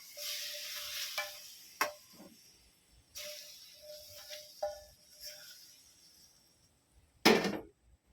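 Chicken wings for a lemon chicken dish cooking in a pan, with soft sizzling broken by spoon stirs and scrapes, a few sharper clatters and one loud utensil knock near the end.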